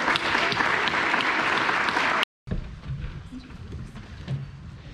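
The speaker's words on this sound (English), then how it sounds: "Can we give each of these students a huge round of applause" Audience applause for graduating students at a Year 12 high school graduation ceremony, a dense steady clapping that cuts out abruptly midway and then resumes more faintly with some background murmur.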